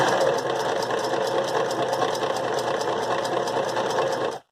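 A domestic sewing machine fitted with a lead presser foot runs steadily, stitching forward and then in reverse, its fast even mechanical whir holding close and loud with no talk before it stops abruptly.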